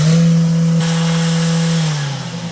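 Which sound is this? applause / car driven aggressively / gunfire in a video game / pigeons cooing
car driven aggressively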